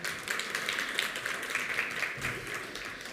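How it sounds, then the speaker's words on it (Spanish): Congregation applauding a preacher at a church service, a steady wash of clapping from many hands that holds for the full stretch without a break. "démosle un aplauso"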